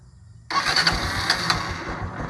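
Quiet at first, then a motorcycle starter motor kicks in abruptly during starter relay testing and the engine catches, running with an uneven rumble afterward.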